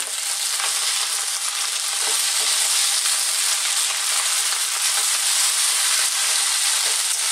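Egg folded into chicken fried rice with ginger in a hot pan, a loud, continuous frying sizzle with soft stirring scrapes and tosses, heard alone without talk.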